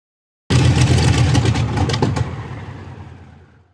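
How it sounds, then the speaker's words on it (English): Heavy war tractors in an audio drama, their engines running loud and close, then winding down as the vehicles come to a stop, fading out over a few seconds. "The drivers stopped their war tractors."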